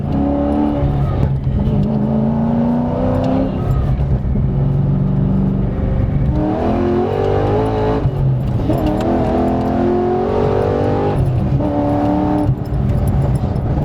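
Nissan Skyline GT-R with a UniClutch Track quad plate clutch driven hard: loud, steady engine drone rising and falling in pitch through revs and gear changes, heard up close from inside the car, with no voices.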